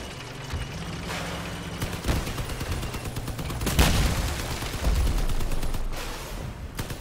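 Turret gunfire in the vehicle combat game Crossout, a steady stream of fairly close shots and booms over a continuous engine-like rumble, going on for about seven seconds.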